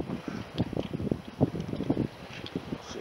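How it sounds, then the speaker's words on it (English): Strong wind gusts buffet the microphone on a beach during metal detecting, a rough, uneven rumble rising and falling close up, with no speech. "I can't believe how hard the wind is."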